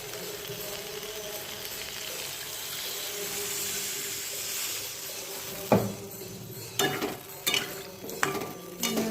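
Onion, tomato, ginger, garlic and fried spices sautéed in a pan for egg curry, a continuous close sizzle with scraping stirs, then a few sharp clanks of a utensil against the pot near the end.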